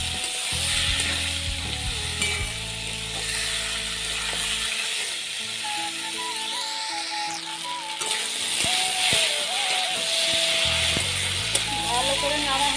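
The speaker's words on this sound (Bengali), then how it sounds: "এবার আমি মুসুরির ডাল আর আলুটা দেব। ভালো করে এরকম ভাবে নেড়ে নেবো।" Red lentils and potato are stirred in a frying pan, giving a continuous sizzle with scraping and clinking of a utensil, while steady tonal background music plays throughout.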